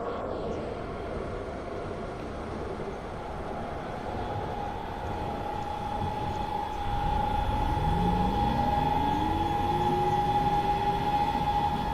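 A DB train in a train simulator video game rumbles past steadily, its engine drone swelling louder midway with a shifting, whining tone, and no voices present.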